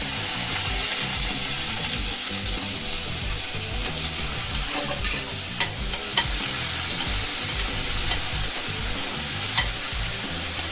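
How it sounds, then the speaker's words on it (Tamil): Onions and garlic sizzling in a hot pan while being stirred, a continuous crackling fry with occasional scraping clicks of a utensil. "அதையும் போட்டு நல்லா வதக்கலாம்."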